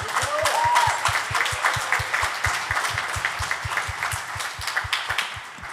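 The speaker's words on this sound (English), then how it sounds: "Let's give her a really big hand for her work." Applause from the audience at a 2023 city council candidate forum for a departing council colleague, steady dense clapping over a rhythmic low thumping, holding level throughout.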